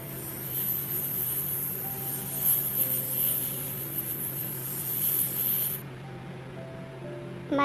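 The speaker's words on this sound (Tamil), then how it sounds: "பாம்பு சீரிடும்" A snake hisses in a long, steady, breathy rush lasting several seconds before cutting off abruptly, loud and close.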